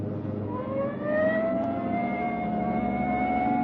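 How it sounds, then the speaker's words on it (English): Police car siren in a 1949 Dragnet radio drama, a wailing tone that rises and holds steady over the low hum of a driving car engine, fairly loud and continuous. "Hit the siren."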